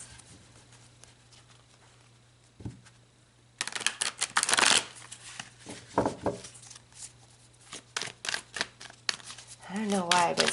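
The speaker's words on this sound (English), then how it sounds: "give this a really good shuffle" Tarot cards are given a vigorous shuffle, a run of dense papery riffles and flutters heard up close over a low steady hum, with soft talk and a quiet stretch before the shuffling begins.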